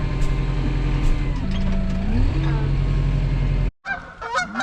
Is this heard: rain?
no